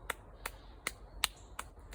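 A hand pats the top of the shoulder near the collarbone in six light, evenly spaced slaps, close and crisp against quiet background.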